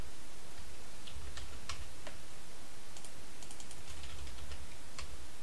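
Keystrokes on a computer keyboard while typing a password into a web form, scattered irregular clicks at close range over a quiet background hum.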